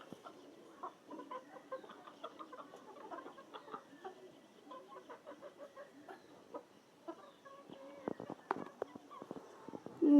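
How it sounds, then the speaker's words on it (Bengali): Chickens, including a large rooster, let out of their coop cluck softly and repeatedly at moderate distance, with a burst of louder, busier clucking and scratching near the end. "মুরগি ছাড়লাম।"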